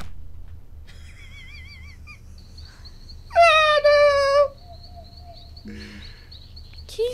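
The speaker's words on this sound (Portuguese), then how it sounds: "Eu falei que esse cachorro era estranho." A dog in the Roblox game Radiant Residents gives a run of high, wavering whimpers, then a loud, close burst of whining cries in the middle, with faint game tones and low hum underneath.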